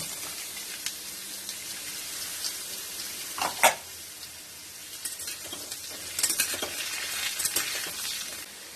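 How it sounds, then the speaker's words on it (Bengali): Thin papaya slices fry in a pan over a tempering of bay leaf and dried red chilli, with a steady hiss of sizzling oil and occasional louder bursts and stirring scrapes, close and continuous. "দিয়ে একটু ভাজা ভাজা হবে। পেঁপেটা দেখো এরকম পাতলা পাতলা করে কেটে নিয়েছি, এটা দিয়ে দেব।"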